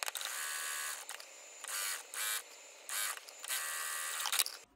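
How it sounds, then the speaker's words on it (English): A sewing machine stitches a seam on a backpack pocket in several short bursts of rapid whirring separated by brief pauses, heard close and alone. "I'm gonna stitch it at about 3/8 of an inch seam allowance."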